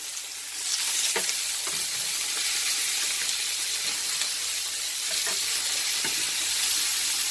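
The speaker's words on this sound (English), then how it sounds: "when you put them in the frying pan, don't move them" Steady crackling sizzle of eggs frying in a pan, continuous and fairly close, with a few faint clicks and pops scattered throughout.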